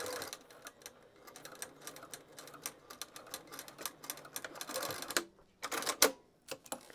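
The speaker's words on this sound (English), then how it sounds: "Okay, so I've now stitched that in, base stitched it in the longest length." A sewing machine base-stitches a zipper into a pouch at its longest stitch length, running in quick rattling bursts separated by short pauses, fairly close and alone.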